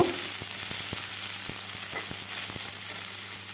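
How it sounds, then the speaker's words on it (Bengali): Two large onions fry in oil with dried red chilli and bay leaves in a pan, making a steady close sizzle with a few soft spoon taps against the pan. "পেঁয়াজটাকে কিছুক্ষণ সময় ধরে ভেজে নেব"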